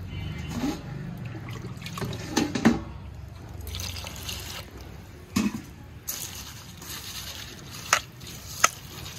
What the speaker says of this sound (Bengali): আর এখন চিড়েটা সুন্দর করে কোনো রকম একটু আলতো করে ধুয়ে নেব